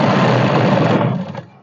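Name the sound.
sewing machine stitching a ladies' suit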